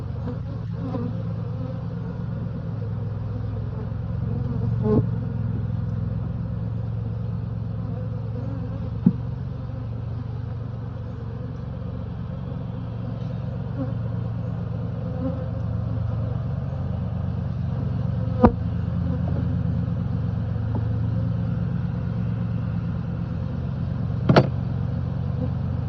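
Honeybees buzz around an open hive in a low, continuous drone, with a few sharp clicks and taps from hive tools or frames punctuating the steady hum.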